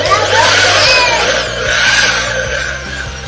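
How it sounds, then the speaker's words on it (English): A Hoyoma impact drill runs loud and close in one continuous whirring roar, with a rapid rattling pulse underneath. "Very nice drill."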